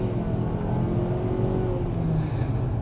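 A 2022 Nissan Altima SR with a CVT accelerating, a steady low engine drone and road rumble from inside the car, continuous and fairly loud throughout.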